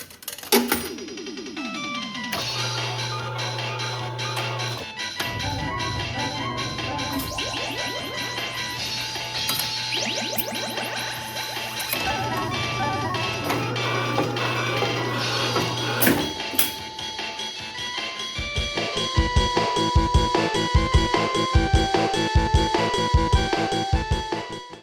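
A claw machine triggering custom sound effects through its relays: a dense, loud mix of clanks, clicks and mechanical clatter layered with tones and jingles, turning into a fast, busy rattling toward the end.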